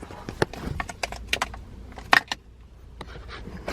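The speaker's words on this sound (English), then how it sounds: "Keys in it." Car keys jangle and click in the ignition of a taped-up Infiniti MX-37 with 244,000 miles at a car auction lot: a string of sharp, close metallic rattles and taps in irregular bursts, one louder clatter midway.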